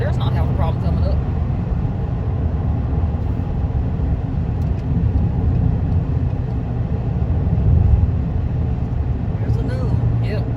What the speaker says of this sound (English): that truck right there is not having a problem coming up